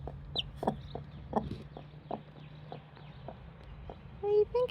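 Chicks peep in thin, sharp bursts near a mother hen, scattered irregularly over low clucking and soft background rustle, with a louder run of chirps near the end.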